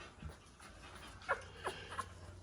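A young bottle-fed puppy whimpers in a few thin, high cries and pants softly, close and quiet against a faint background.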